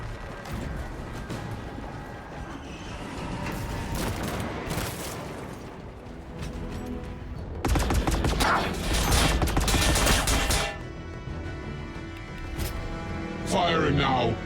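A Nova Cannon firing an implosive warhead in a Warhammer video game, heard as loud layered booms and rattling gunfire bursts amid mechanical noise, with a voice speaking over parts of the barrage.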